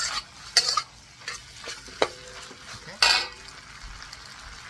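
Shrimp frying for pad thai in a hot pan, a steady sizzle broken by several sharp scrapes and clinks of stirring, with a brief spoken word.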